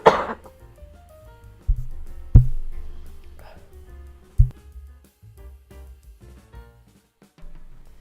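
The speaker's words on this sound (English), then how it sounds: "I can't tell when it's going to be just one cough or if it's going to be a coughing fit." A person coughing indoors, several sharp close coughs spaced out over a few seconds, with quiet background sounds between them.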